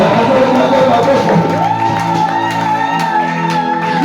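A church congregation cheers and acclaims the Lord during a French-language sermon, a loud continuous crowd of voices with whoops and shouts, while sung or chanted tones rise through the middle.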